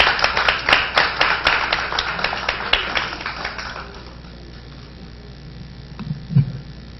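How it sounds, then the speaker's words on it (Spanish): Applause rises from a seminar audience, a few distinct claps building into brisk rhythmic clapping that fades out after about four seconds, leaving quiet room tone and a faint brief bump. "Un aplauso para ella, por favor."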